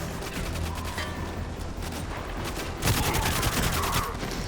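Rapid bursts of gunfire in GoldenEye 007 Reloaded on Xbox 360, a string of sharp repeated shots that grows louder and denser toward the end.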